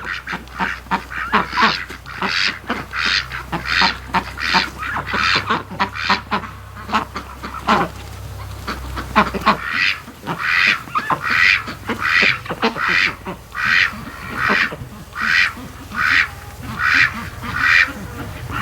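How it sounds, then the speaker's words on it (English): Ducks quack repeatedly and loudly nearby in a rapid, rhythmic series of nasal calls, with a low hum in the background for the first half. "God, ducks crack me up."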